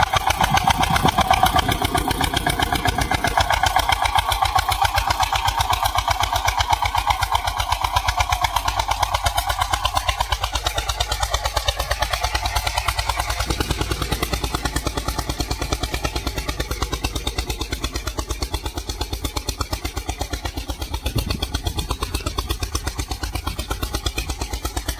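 An Eicher 241 tractor engine runs steadily while pulling a cultivator, a loud, continuous, throbbing diesel chug at close range with no pauses.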